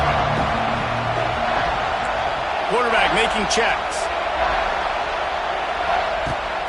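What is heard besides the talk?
stadium crowd cheering at a college football video game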